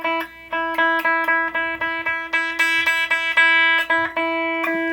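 Clean electric guitar on the middle pickup picked in a steady, even rhythm, repeated single notes ringing clearly with a mellow, rounded tone.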